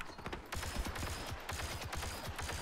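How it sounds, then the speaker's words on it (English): Rapid blaster fire crackles through a Star Wars Battlefront 2 Blast match on Yavin 4, dense bursts of shots running nearly without pause in a loud, busy firefight. "Try to pop some shots off on him."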